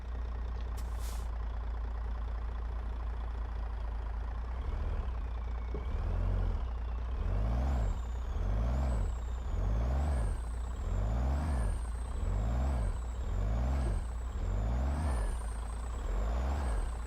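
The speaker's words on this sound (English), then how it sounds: "As soon as I release the brakes" Air brakes on a logging truck in winter release in a series of sharp pneumatic hisses and chuffs, repeating roughly every second over a heavy diesel idle, close and loud with no talking.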